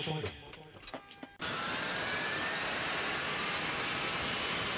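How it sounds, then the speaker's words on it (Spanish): Aircraft engines start up abruptly after a brief stretch of someone talking, then settle into a loud, continuous jet-like roar with a faint rising whine that holds steady to the end. "Pilotos, enciendan motores."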